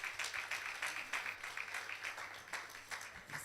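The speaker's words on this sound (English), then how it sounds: "let's give her a round of applause" Audience at an entrepreneurship awards ceremony giving a round of applause, a steady patter of many hands clapping together indoors, sustained and fairly even throughout.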